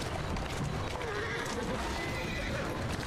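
A horse in the video game Assassin's Creed Syndicate gallops with dense clip-clop hoofbeats and neighs amid busy street ambience, loud and continuous throughout.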